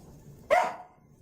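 A single sharp dog bark rings out indoors, loud and close, followed by a short fading tail and quiet room hum.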